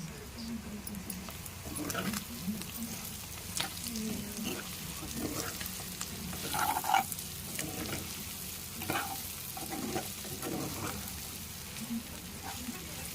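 Mutton roast curry sizzles and crackles in a hot pan with a steady frying hiss, broken by scraping and stirring strokes and occasional louder pops, heard up close with no voices.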